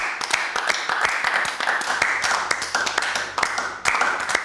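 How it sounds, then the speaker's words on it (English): Several people clap together in a close, lively burst of applause that keeps going steadily, with irregular overlapping claps. "Everyone give Matt a round of applause"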